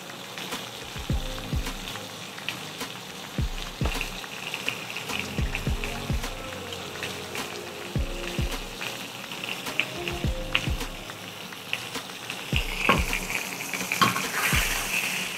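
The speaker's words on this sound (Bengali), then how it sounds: "টমেটোটা একটু গ্রিল হতে সময় নেয়।" Tomato and potato sear in a hot pan with a continuous crackling sizzle. Soft rhythmic thuds and light clinks recur throughout at close range.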